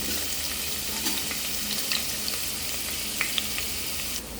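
Ginger, garlic and green chillies fry in hot coconut oil for a broccoli masala curry, making a steady, close sizzle with light stirring clicks and no talking.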